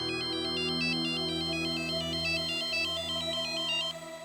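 A mobile phone ringtone plays loud and close, a bright repeating electronic melody looping for about four seconds over a low steady hum, then cutting off.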